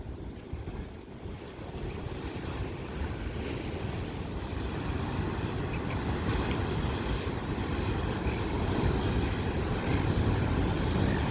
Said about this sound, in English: We've had big waves for about a week.